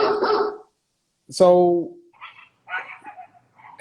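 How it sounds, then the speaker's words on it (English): A dog gives one sharp, fairly close bark, followed by fainter yips and barks from outside, while people talk before and after. "yeah, they're dogs"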